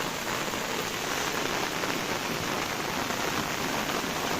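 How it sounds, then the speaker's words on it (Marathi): Steady heavy rain falls outdoors at the start of the monsoon, a dense continuous hiss of drops on surfaces with no gaps. "असं हे पावसाचं वातावरण आहे मित्रांनो"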